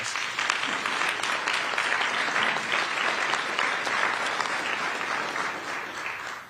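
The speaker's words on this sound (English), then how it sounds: "let's give them a round of applause" A crowd claps at a police community relations awards ceremony, a dense, continuous wash of applause that holds steady and then tapers slightly at the very end.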